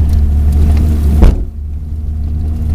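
A Honda Accord engine hums and rumbles steadily as the car rolls over a bumpy field, with a brief thump midway before the sound drops quieter.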